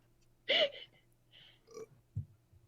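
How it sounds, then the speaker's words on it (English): A short, soft burp near the start, followed by a few quieter breathy noises and small throaty sounds in an otherwise quiet room. "I heard that burp."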